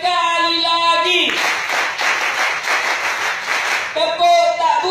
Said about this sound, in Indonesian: Tepuk-tepuk semangat.